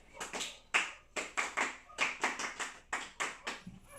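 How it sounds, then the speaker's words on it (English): A classroom of students giving a scout clap, a quick run of about a dozen sharp, rhythmic hand claps in a patterned beat, close and clear with no talking over them. "Give yourselves a scout clap for that."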